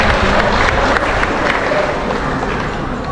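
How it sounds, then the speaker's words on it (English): Loud, dense applause from a crowd at a sea lion show in an aquarium, continuous clapping close by that holds steady and then eases slightly toward the end. "Let's give Nelson a big round of applause."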